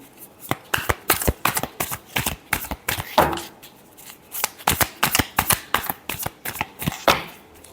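Tarot cards are shuffled by hand up close in quick, repeated riffling bursts, each a sharp flurry of card edges with brief gaps between.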